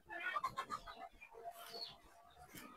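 Native Bangladeshi chickens kept on a rooftop farm, soft clucks and chatter from several birds close by, quiet and uneven, with no one talking.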